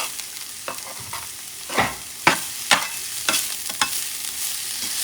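Sofrito of pepper, onions, cilantro and culantro sizzles in a pan, a steady hiss broken by several sharp scraping stirs.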